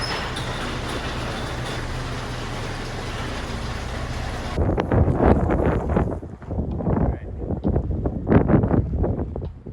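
Outdoor wind in snowy weather buffets the microphone in loud gusty rushes, steady at first then turning into irregular bursts of blustery noise.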